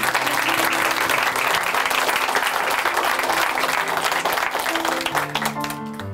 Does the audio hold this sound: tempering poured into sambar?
no